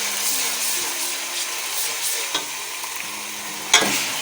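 Onions fry in a pan with ginger garlic paste stirred in for keema sabzi. A steady sizzle runs throughout, with soft scrapes from the stirring spoon and one sharper clink near the end.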